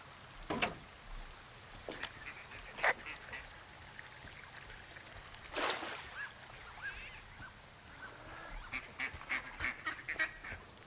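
Ducks quack and honk in scattered bursts within the Firewatch game world, faint and somewhat distant, separated by quiet ambient stretches, with one louder rushing sound midway.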